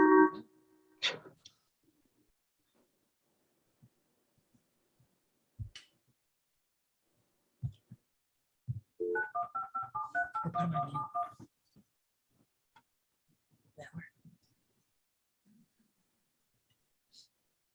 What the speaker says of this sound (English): Was I supposed to dial 9?